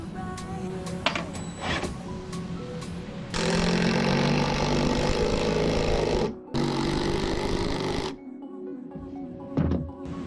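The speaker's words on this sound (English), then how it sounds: "Should put some screws in." A power drill runs in two long bursts, grinding as screws drive into wood, with short pauses and quieter handling noises between.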